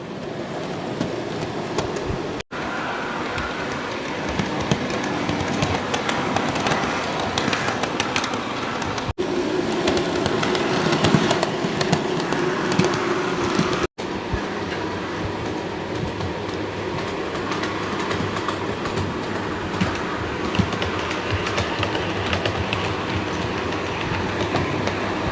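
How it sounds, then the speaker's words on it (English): A Revolution FNA-D model train runs around a layout, producing a continuous close rolling rumble with rhythmic clickety-clack over the rail joints for the whole stretch, with no talk. "So let's get it running around the layout again."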